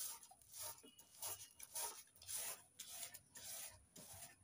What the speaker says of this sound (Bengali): আপনারা গেটারেও ঘষে ঘষে তালের কাঠটা বের করে নিতে পারেন